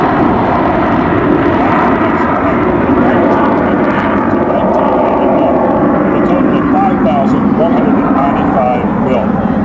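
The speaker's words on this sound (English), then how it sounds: "we're fortunate to have a demonstration of the capabilities here this afternoon of the F-4 Phantom" An F-4 Phantom jet roars loud and continuous during an airshow demonstration, the steady engine noise filling the whole stretch with an announcer's voice faintly beneath it.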